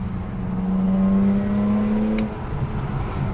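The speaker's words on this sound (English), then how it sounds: "just enjoy listening to that supercharged straight six" A supercharged straight-six in a BMW E46 M3 pulls steadily while driving, a loud tonal engine note rising in pitch then easing off, heard from inside the car with no talk.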